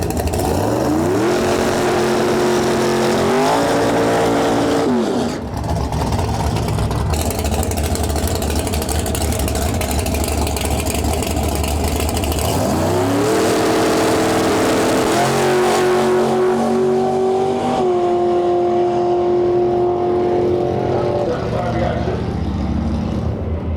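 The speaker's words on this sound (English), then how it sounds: "Nice noisy car, this thing too" A loud drag racing car at a dragway rumbles at idle, then revs hard in rising sweeps several times, drops back and revs again, close by and noisy, with someone talking over it.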